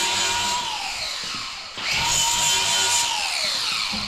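Angle grinding on welded steel bumper brackets for a Jeep Cherokee bumper build: loud, continuous abrasive whine alone, dipping briefly near the middle before resuming at full strength.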